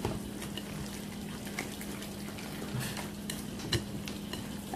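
Cornbread dressing with butter, onion and celery being stirred in a pot: a continuous wet, close scraping and sloshing with soft clinks of the utensil, under a low steady hum, no voices.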